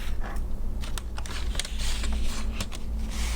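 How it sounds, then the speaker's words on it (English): A paper cutter slicing strips of paper for a toilet-paper-roll bug craft, with a run of quick clicking and scraping strokes close to the microphone over a constant low background hum. "I'm going to use my paper cutter again, but you can use a pair of scissors."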